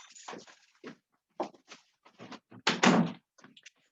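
A falling-apart door box bangs and thumps indoors in a series of irregular knocks, with one heavier, louder slam near the middle.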